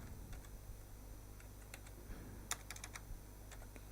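Typing on a computer keyboard, soft and close in a quiet room, with a short burst of rapid keystrokes and a few louder taps after a sparse start, no voices.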